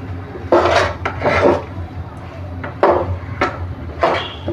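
Bottle gourd being sautéed in ghee, heard as repeated rasping scrapes of a spatula against the pan in uneven strokes, close and fairly loud, with little audible sizzle.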